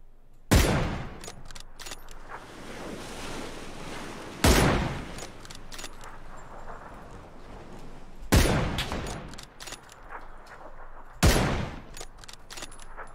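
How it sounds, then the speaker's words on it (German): Four loud, sharp video game gunshot bursts ring out several seconds apart in a jungle setting, each decaying into a lingering rumble with quieter crackles between. "also Schüsse locken schon Spieler an"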